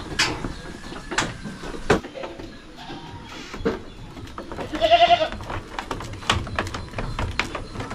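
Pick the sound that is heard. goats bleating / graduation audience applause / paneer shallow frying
goats bleating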